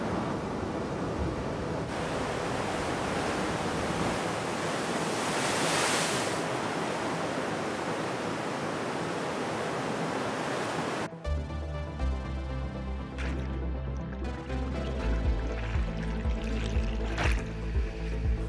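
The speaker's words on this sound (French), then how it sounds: "Les vagues sont puissantes, épaisses et rapides" Powerful ocean waves break at a radical surf spot in a continuous, wind-blown roar for most of the stretch, before a sudden cut to music.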